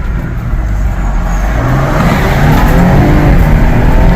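Twin-turbo Ford Explorer ST with 400 hp and all-wheel drive being driven, a loud, close engine drone with rising revs and road noise filling the whole stretch, no voices.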